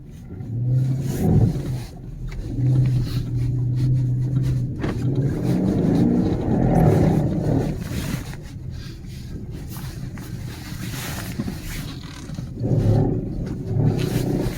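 A V8 all-wheel-drive 2018 Dodge Charger Pursuit spins donuts in snow, its engine droning and revving steadily throughout, with surges rising and falling close by and no talk.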